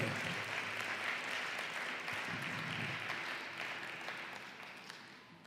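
A church congregation at a Sunday morning service claps and cheers in sustained, dense applause that fills the room, then slowly thins and fades toward the end.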